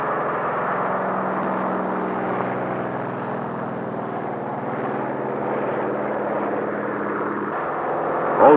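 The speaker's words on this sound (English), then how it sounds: "Also taking off from the carrier are control planes" A propeller aircraft engine roars steadily at a distance as planes take off from an aircraft carrier, a broad sustained drone with a slight swell near the end.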